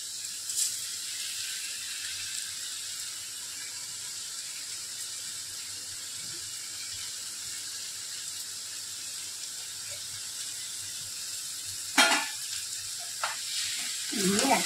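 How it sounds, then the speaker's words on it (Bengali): Pre-fried rice is stirred into masala in a pan for spicy masala pulao, a soft, steady sizzle in the background with a few clattering spatula scrapes near the end. "মশলার সাথে চালটাকে ভালো করে মিশিয়ে নেব।"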